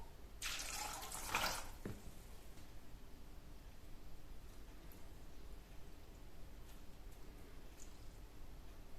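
Peeled almonds are rinsed under a running tap, heard as a brief hissing splash of water at the start followed by a faint background hum.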